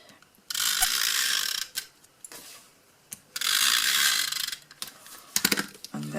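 A snail adhesive tape runner lays glue onto the inside of a card in several short ratcheting, whirring strokes separated by brief pauses, close and fairly loud.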